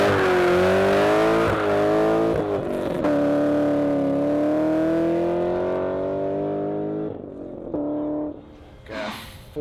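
A Chevrolet Camaro with a newly installed camshaft, lifters and rockers roars through a 0-60 mph run, its loud, close engine note climbing in pitch, dipping at gear changes, then fading away.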